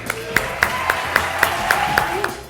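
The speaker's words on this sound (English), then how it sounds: "join me in a round of applause and welcome Miss Lynette Brown-So" An audience at a 2015 scholarship reception claps in welcome for a speaker, sharp, evenly spaced claps about every quarter second, close and fairly loud, carrying over low room murmur.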